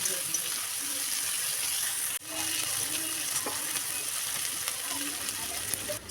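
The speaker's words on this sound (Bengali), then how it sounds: "এবার গ্যাসের আঁচটাকে বাড়িয়ে পেঁয়াজগুলো ভালো করে ভেজে নেব।" Onions and whole cumin seeds frying in a wok over raised gas heat, a steady close sizzle with occasional stirring scrapes and a brief dip partway through.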